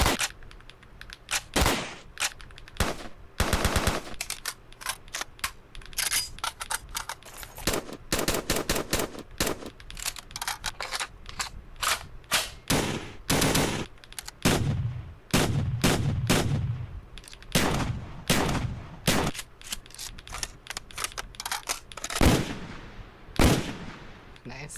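Rapid bursts of FAMAS rifle fire from a Call of Duty game, loud and close, with repeated volleys and short pauses, some shots in quick automatic strings, over game background noise.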